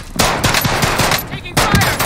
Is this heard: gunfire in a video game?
yes